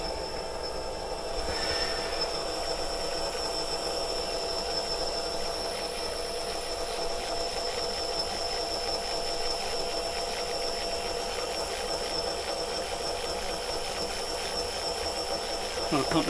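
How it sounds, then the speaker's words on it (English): A pump runs steadily, drawing old oil out of a yacht's diesel engine, a constant loud hissing, grinding drone that holds without a break throughout. "Trying to pump as much of this crap out of the engine"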